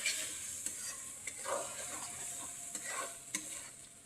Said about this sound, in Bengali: এবার দিয়ে দেবো লবণ। এবার ভালো মতো এটা ভেজে নেব।